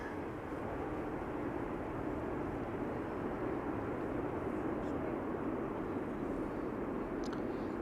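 An airliner lands at Amsterdam Schiphol Airport with a steady, dense engine roar close by, and voices are heard talking over it.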